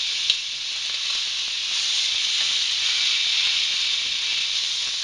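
Beef short ribs sear in a hot pan, giving off a steady, close, broadband sizzle with a soft hiss and no talking.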